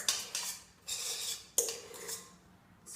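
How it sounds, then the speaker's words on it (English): Spatula scraping chocolate mousse from a bowl in a few separate strokes, soft rasping swipes with small clinks against the bowl, close and quiet with pauses between them. "scrape out all of the mousse and mix gently"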